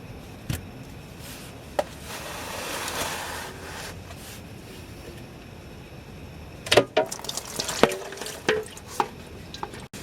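Pry tool working a transmission pan loose on a Toyota Camry V6 with its bolts removed, a low scraping rasp followed by several sharp metallic clicks and knocks close by, with no talking.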